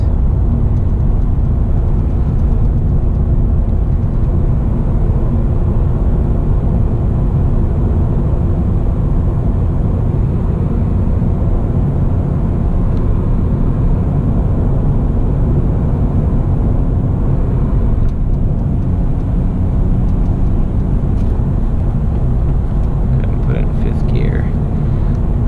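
A 2017 Honda Civic Si with a manual clutch gives off a steady, low engine drone and road rumble from inside the cabin while someone talks over it almost the whole time.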